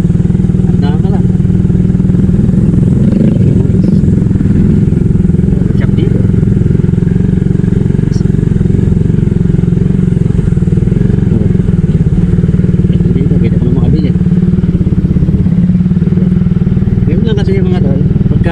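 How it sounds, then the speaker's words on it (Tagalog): A motorcycle with a snapped clutch cable fires up after a push start in neutral, then keeps running as a loud, steady, close engine idle with faint clatter throughout. "Neutral mo tapos tutulak mo ng mabilis, sabay cambio, ayun, aandar na yun."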